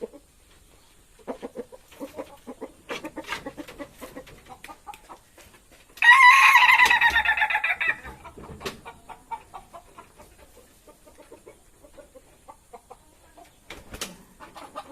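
A Siamese breed rooster crows loudly once, a long harsh call close to the microphone, with scattered clucks and farmyard chatter before and after.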